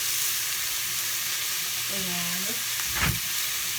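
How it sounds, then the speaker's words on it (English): Ground beef chuck sizzles steadily in a frying pan, a loud continuous hiss close by, with a brief stirring scrape near the end and one short spoken word over it. "So I got me some ground chuck in the pan."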